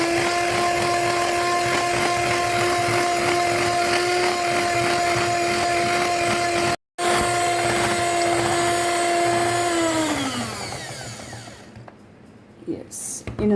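An electric hand beater whips sugar for a plum cake, a loud steady motorized whine with a brief cutout midway, then winding down and stopping near the end, with a voice talking faintly alongside.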